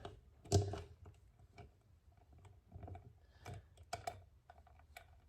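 Clutch cover bolts on a CNC derby cover being tightened by hand in a star pattern, giving faint, scattered mechanical clicks and ratcheting taps with one louder knock near the start.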